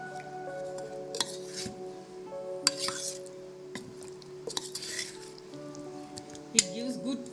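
Paneer tikka marinade being mixed in a bowl, with soft wet squishing and intermittent clinks and scrapes of a spoon against the bowl, close by, while a voice speaks over it.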